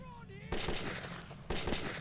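Bastard gun firing in Metro 2033, two short bursts of rapid rattling shots about a second apart, close and punchy, following a brief vocal sound.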